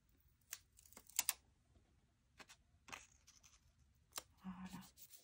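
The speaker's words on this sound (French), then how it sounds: "maintenant je vais utiliser mes autocollants" Stickers peeled and pressed onto a page, close and quiet: scattered crisp ticks and papery rustles in short bursts with gaps, ending in a brief soft scrape.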